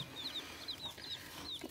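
Gold laced Wyandotte chicks peeping, a string of short high chirps repeating every fraction of a second, close but quiet over a soft background hum.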